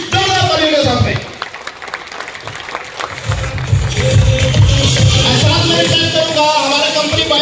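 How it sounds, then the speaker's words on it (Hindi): An audience at a speech event claps loudly to welcome a speaker, breaking into applause after a second of spoken introduction and then swelling into sustained, dense clapping with crowd noise. "प्लीज जोरदार तालियों के साथ में"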